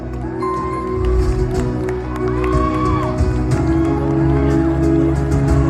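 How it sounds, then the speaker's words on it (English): Crowd cheering and applause at the Miss Khimusniang 2024 pageant as the second runner-up, Mr. Khimusniang, is announced. The noise is loud and sustained, with whoops and music-like tones rising over the crowd and voices mixed in. "Please give him a huge round of applause."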